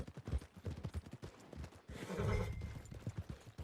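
Horse hooves clip-clop at a steady walking rhythm near a stable town in the Red Dead Redemption 2 video game, with a brief whinny and a louder rustling passage midway, no talk over it.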